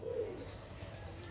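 Soft, low cooing of Madrasi pigeons at moderate distance, a brief rolling coo near the start, with faint background noise.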